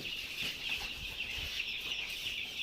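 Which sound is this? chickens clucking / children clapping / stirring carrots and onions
chickens clucking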